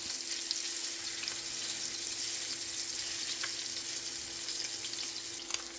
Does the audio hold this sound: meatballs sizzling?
yes